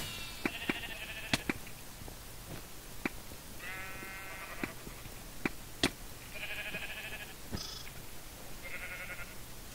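Sheep in the Minecraft Mineplex video game bleat several times, short nasal calls spaced a few seconds apart, mixed with sharp clicks and brief game sound effects at a low level.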